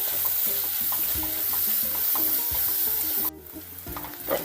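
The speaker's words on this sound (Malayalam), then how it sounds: "ഇനി ഇതിലേക്ക് രണ്ട് തണ്ട് കറിവേപ്പില ഇട്ട് കൊടുക്കുന്നുണ്ട് ഇതും കൂടിയും കിടന്ന് നന്നായിട്ട് വഴറ്റി വരാം" Curry leaves, onion, ginger and green chilli sauté in a pan for a Kerala cashew nut curry: a loud, steady sizzle with busy, rhythmic stirring scrapes, dropping abruptly to a quieter hiss near the end.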